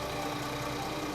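A Mercedes W218 engine runs after an oil pan and intermediate shaft bearing repair, giving a steady, even idle with a constant broadband hum and no breaks, close and moderately loud.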